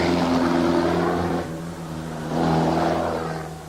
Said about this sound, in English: Mike and Gina Barker's Jaguar leads the way, hotly pursued by the Healey of Don Griffiths and Bob Garside